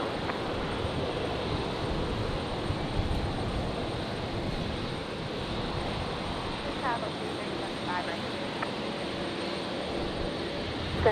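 A jet airliner takes off at Brisbane Airport on a stormy Saturday night, its engines a steady, broad, continuous roar filling the whole stretch, with faint radio-like voices briefly surfacing beneath it.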